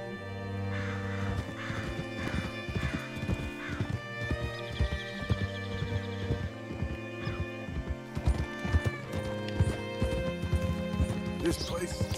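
Horse hooves clip-clop in the Western video game Red Dead Redemption 2, a steady close trot running under layered music and voices throughout.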